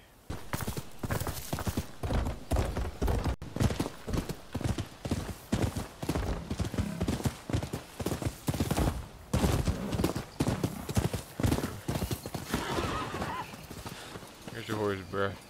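Steady, rapid clip-clop of horse hooves trotting close by in the video game Rise of the Ronin, with someone talking over it and a brief whinny.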